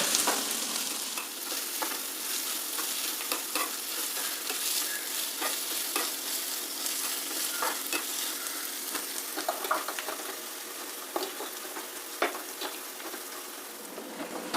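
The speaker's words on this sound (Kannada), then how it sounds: "ಇದು ಇವಾಗ ಚೆನ್ನಾಗಿ ಕುದೀತಾ ಇದೆ" A pot of seasoned, oily food bubbles and crackles steadily on a stove, with a dense, continuous sizzle and scattered sharp pops throughout. No one speaks.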